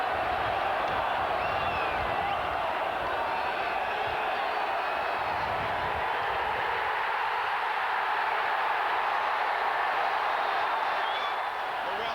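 Huge 76,000-capacity football crowd at Wembley roaring and cheering in a steady, dense wall of sound throughout, with a commentator talking over it.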